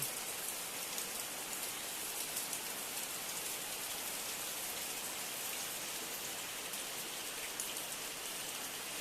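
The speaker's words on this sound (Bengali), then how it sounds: "প্রচুর পরিমাণে বৃষ্টি" Heavy rain falls steadily in Malda under an overcast sky, a dense, even hiss of drops pattering on surfaces that stays constant and fairly close throughout, with no voices.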